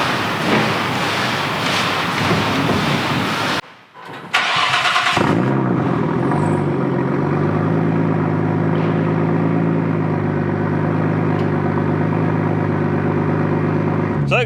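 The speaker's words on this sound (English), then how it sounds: "Let's get it started up, get it warmed up, and get on the road." Nissan Skyline R34 GTT starts after a few seconds of loud churning noise and a short pause, then settles into a steady, close, even idle as it warms up.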